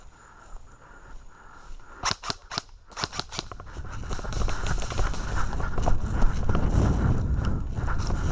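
Airsoft guns firing during a game at Picasso Lake, including full-auto fire: a few sharp snapping shots, then rapid clattering bursts that build into a dense, continuous rattle, close by with no talk.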